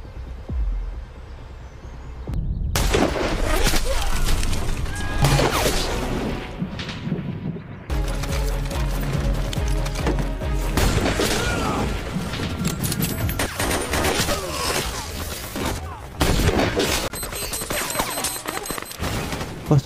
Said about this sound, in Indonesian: Dan baku tembak pun terjadi kembali.